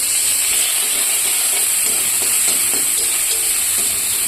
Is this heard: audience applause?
no